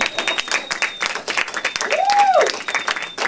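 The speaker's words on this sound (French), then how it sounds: "Vous pouvez vous applaudir." Audience applause greeting a welcome at the start of a French community event, a steady burst of many hands clapping under a brief whistle-like tone, close and moderately loud.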